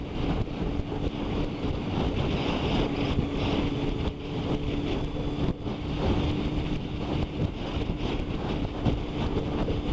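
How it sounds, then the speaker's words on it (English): Steady, loud wind roars and buffets against the microphone throughout while riding a motorcycle in rain, a continuous broadband rush with gusty swells and no speech. "I'm getting proper punched around by the wind."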